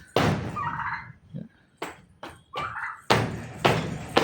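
A turkey on a home poultry farm gobbles several times in quick, loud bursts close by, with some thuds and knocks between calls.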